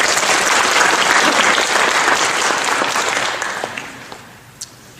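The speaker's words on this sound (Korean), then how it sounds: "우리 찬양팀에게도 격려의 박수 부탁드리겠습니다" A church congregation gives the worship team a warm round of applause. Loud, dense clapping fills the room for several seconds and then tapers off into a few scattered claps.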